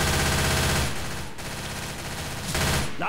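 Automatic gunfire in the zombie shooter Left 4 Dead 2, a fast, steady stream of shots close and loud, easing briefly in the middle before the burst picks up again.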